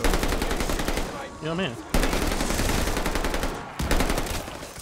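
Rapid, loud gunfire from shotguns and other weapons in Call of Duty: Vanguard Zombies, with dense overlapping blasts throughout and brief drops between bursts, while a player speaks briefly over the shooting.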